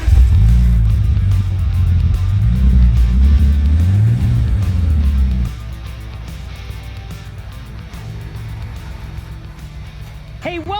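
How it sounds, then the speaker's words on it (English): A 550-horsepower all-wheel-drive 2005 Bentley Continental GT rumbles nearby with a wavering, revving engine note for about five seconds, then settles into a quieter, steady idle. "That right there is a 2005 Bentley Continental GT, 550 horsepower, all-wheel drive Bentley."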